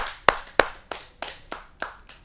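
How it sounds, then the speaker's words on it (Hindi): A few hands clapping at a Hindi poetry gathering as a poet from Aligarh is welcomed, sparse separate claps about every third of a second, fairly close and quiet, with nothing else heard. "आइए स्वागत करते हैं उनका जोरदार तालियों से"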